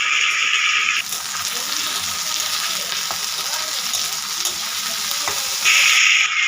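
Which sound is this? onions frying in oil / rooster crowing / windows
onions frying in oil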